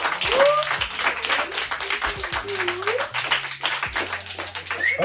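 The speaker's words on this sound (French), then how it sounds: "applaudissez-le s'il vous plaît" An audience claps for the sound technician as he comes up on stage at a live comedy show, with steady applause filling the room and voices and cheers mixed in throughout.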